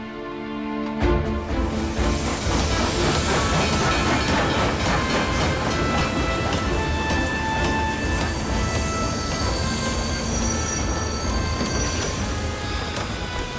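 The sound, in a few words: steam train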